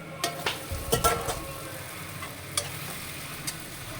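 Ripe tomatoes frying in a pan for a Telugu fish curry, with a soft ongoing sizzle and several clinking scrapes of a spoon stirring, loudest near the start and alone without talk.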